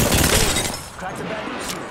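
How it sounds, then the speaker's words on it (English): An Apex Legends shield cracks with a sharp, bright shattering burst that fades quickly, with speech alongside. "Cracked a bamboo shield."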